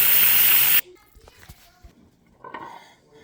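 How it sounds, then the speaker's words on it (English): An Instant Pot pressure cooker venting steam gives a loud, steady hiss that cuts off abruptly after under a second, followed by quiet clinks and a faint voice. "After the Instant Pot has naturally released for 10 minutes, you're going to go ahead and shut it off and go ahead and let it vent"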